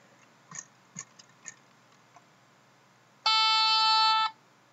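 Several soft ticks and clicks, then a single loud electronic beep from a Lego Mindstorms EV3 robot's ultrasonic sensor that lasts about a second before cutting off.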